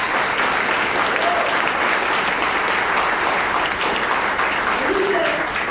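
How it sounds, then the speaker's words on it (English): A crowd applauding during a speech by the New York Attorney General, steady, dense clapping that fills the room at an even level, with faint voices mixed in underneath. "We need to give Chuck Schumer a round of applause for his leadership."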